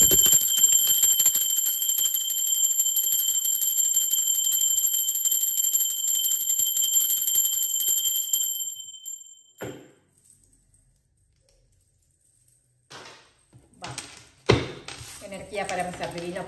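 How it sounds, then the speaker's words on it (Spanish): A bell rings with a sustained high metallic shimmer that lasts about eight seconds and then fades, followed by scattered rustling and handling noises. "Va campana, ahora sí."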